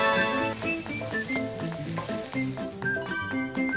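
A vegetable chijimi, the Korean savoury pancake, sizzles steadily as it fries in a pan, a soft crackle running under prominent background music for the whole stretch.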